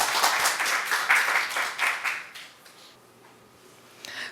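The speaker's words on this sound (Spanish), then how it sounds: "Recibamos entonces con un aplauso a la profesora Patricia Nieto Nieto." An audience at a journalism and literature talk applauds to welcome a professor, with strong clapping at first that thins out and fades to near quiet, then a faint noise near the end.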